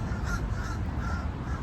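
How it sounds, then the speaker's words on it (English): Several crows cawing outdoors, repeated harsh calls at moderate distance over a steady, noisy background. "you can hear the crows today. They're all kind of excited"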